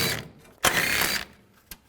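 Ratcheting wrench turning out a 10mm bolt on a 2013-16 Nissan Sentra during radiator replacement, a few bursts of rapid close metallic clicking separated by short pauses, ending with a single sharp tick.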